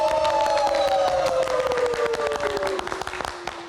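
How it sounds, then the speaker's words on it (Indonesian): A Metro TV news studio applauds reporter Safira with a dense, lively burst of clapping that tapers off toward the end, while a descending musical tone sweeps underneath. "kita berikan tepuk tangan untuk Safira"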